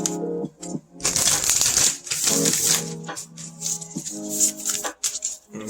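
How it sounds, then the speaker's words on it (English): Starseed Oracle cards being shuffled by hand, a close riffling and patter of card stock in bursts with brief pauses, loud and alone. "Let's give one more shuffle."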